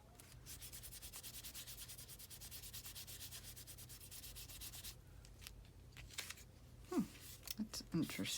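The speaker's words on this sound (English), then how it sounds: "And then just rub it." Paper over gesso being rubbed to lift ink off a journal page, a steady rhythmic scrubbing with regular strokes, then softer scattered rubbing, with a voice talking quietly underneath.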